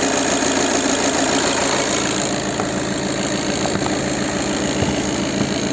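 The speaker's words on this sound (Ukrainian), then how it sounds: "Двигун працює ідеально рівно." A VW Caddy Life 2016 2.0 TDI 150 hp diesel engine idling steadily up close, a continuous low rumble with an even, rhythmic knock and no voices.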